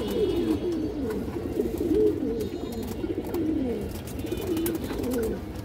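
Pigeons from a flock of long-flying, tagged racing-type birds coo over and over in close, overlapping, rolling phrases, loud and near with little else around.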